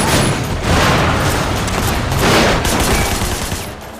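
Gunfire from the open-world action game Sleeping Dogs, a dense, loud barrage of overlapping shots and booms that runs continuously with no talking.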